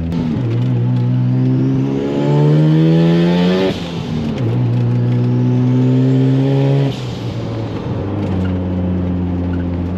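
Powerful car engine revs hard from inside the cabin, climbing in pitch through long pulls with abrupt drops at each gear change, three accelerating sweeps in a row.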